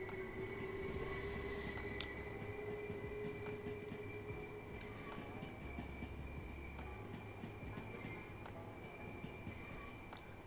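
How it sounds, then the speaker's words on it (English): A Class 377 electric train departs Brighton station in Train Sim World 2, with a steady rolling rumble, a sustained motor whine and occasional wheel squeals and clicks, moderately distant and with no talk. "Here we are at Brighton, 377 leaving there."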